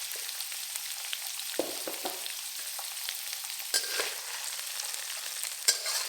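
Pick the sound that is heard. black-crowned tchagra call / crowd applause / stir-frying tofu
stir-frying tofu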